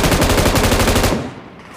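An M249 light machine gun fires in PUBG Mobile, a loud rapid burst of evenly spaced shots that stops abruptly and leaves a fading tail.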